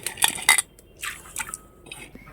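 Washed lentils (dal) being tipped into water in a kitchen make brief clinks of a metal pot and soft splashy trickles, a quick cluster followed by a few fainter pours and drips.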